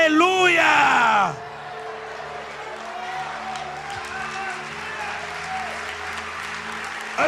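Congregation at a charismatic church service in Brazil applauding and cheering, a loud shout opening over steady clapping, then continuous rhythmic applause and cries from many people throughout.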